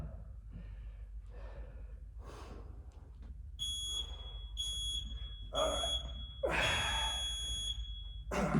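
A sharp electronic workout timer buzzer beeps in several short bursts amid heavy breathing and gasps, fairly close and moderately loud.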